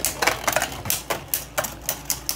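Beyblade Burst Turbo spinning tops clash in a plastic stadium during a battle, giving a run of sharp, close clicking and clacking hits at an irregular rhythm, with no talk.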